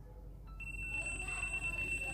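A continuous high electronic beep tone from a tester checking a resistor starts after a brief chirp and holds steadily over low background hum, fairly quiet and close.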